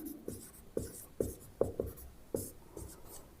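A pen or chalk scratches out short strokes on a writing surface, heard close as a series of quick scrapes and taps with small gaps between them.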